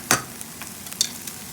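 Garlic sizzles softly in a frying pan for a West African stew, with a few quick spoon scrapes and taps as it is stirred, close and fairly quiet.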